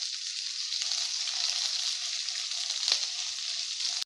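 Garlic, onions and green chillies fry in hot oil with a steady, close hiss and crackle that continues evenly throughout.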